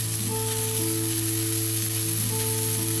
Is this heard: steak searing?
yes